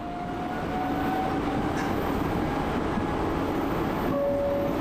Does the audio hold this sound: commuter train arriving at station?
yes